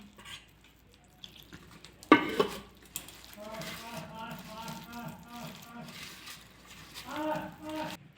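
Fish chop mixture being kneaded by hand in a bowl: a loud clank near the start, then soft squelching and rubbing with light bowl knocks, while a voice talks over part of it.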